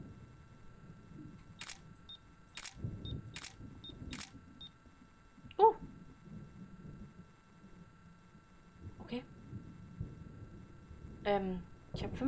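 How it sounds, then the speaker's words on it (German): A series of in-game camera shutter clicks fire in the horror game Suite 776, sharp and evenly spaced at first, then sparser, over a soft murmuring background. "Ich habe 5 Fotos gemacht."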